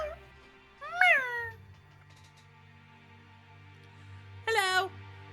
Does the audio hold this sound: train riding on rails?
no